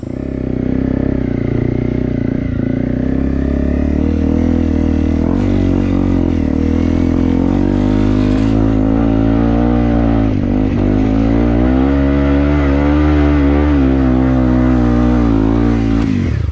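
A motorcycle revs hard while climbing a steep, muddy jungle trail in Krayan, its engine droning loud and close for a sustained stretch, the pitch rising and falling with throttle bursts and no talk.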